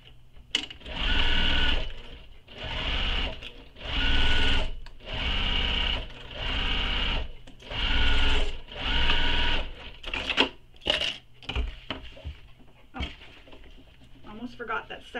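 A sewing machine stitches a seam on a small crossbody bag in several loud, close bursts of rapid stitching with short pauses between, ending in scattered clicks and handling noises.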